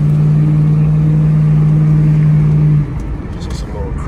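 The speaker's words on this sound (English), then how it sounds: "We're gonna take it out for a test drive right now though, see how it's running." The V8 engine of an SN95 Ford Mustang GT, just back from a cylinder head repair after a blown-out spark plug, drones steadily and loudly from inside the car on a test drive, then drops to a lower, rougher rumble near the end.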